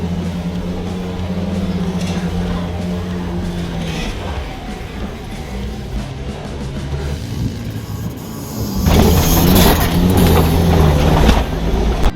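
A Chevrolet ZR2 truck fitted with Super Springs accelerates on an off-road test run as a low, steady engine drone. The drone swells noticeably louder and rougher over the last few seconds.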